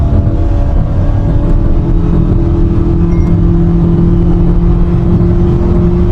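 An MG Hector SUV in sport mode accelerates with a loud, steady engine drone and rising whir, close and continuous throughout with no talking.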